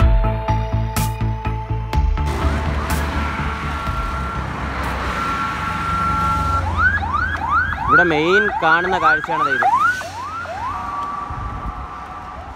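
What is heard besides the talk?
ambulance siren on a highway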